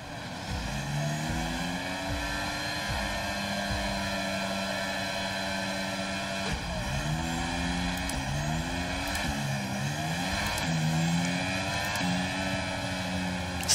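An F1 car in the F1 2023 racing game launches off the start line, its high-pitched engine whining steadily, then climbing and dropping through rapid gear shifts, loud and alone without talk.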